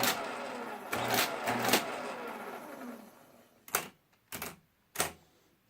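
A Marchant mechanical calculator runs a multiplication, first with a dense, busy mechanical whirring and clatter, then several separate sharp clunking bursts with short pauses between them, close by.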